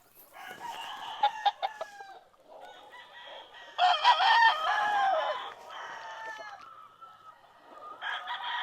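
A Maclean Hatch gamefowl rooster with a street comb crows several times on a breeding gamefarm, loud and near, the full calls interleaved with shorter clucking and chattering notes and brief pauses between.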